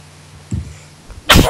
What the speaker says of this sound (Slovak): teraz si kýchnem